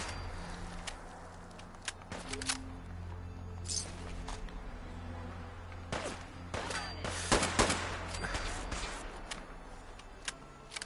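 Gunfire in the Fallout 4 video game, scattered cracks and bursts of varying loudness over a steady low background hum, some shots near and some distant, with a few brief louder volleys.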